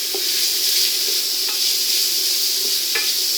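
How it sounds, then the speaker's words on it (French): Lardons frying in a pan without added fat for coq au vin, a steady bright sizzle with a few soft stirring scrapes, close and alone. "quand on cuit les lardons, on ne rajoute pas de graisse"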